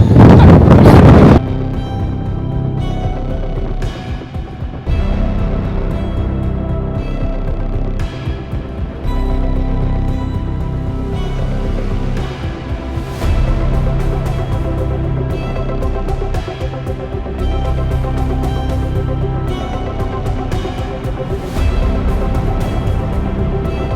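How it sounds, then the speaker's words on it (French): Strong wind slams into the microphone on a hike in Lombok, a loud, steady, distorted roar with a harsh burst at the very start, continuing unbroken with no talk. "J'enregistre, regardez le vent."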